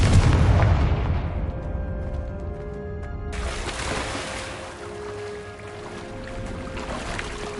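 The Confringo explosive spell in Hogwarts Legacy goes off with a heavy blast at the very start, then a long rumbling decay, a second crackling burst a few seconds later, and a sustained tonal hum underneath.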